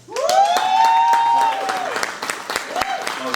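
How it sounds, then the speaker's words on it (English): An audience at a business networking event claps through a burst of applause, while a nearby voice speaks loudly over it and the clapping thins out toward the end. "big round of applause"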